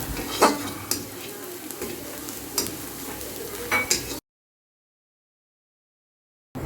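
Onions frying in a pan with a low sizzle under busy stirring and utensil clinks for about four seconds, then a sudden stretch of silence.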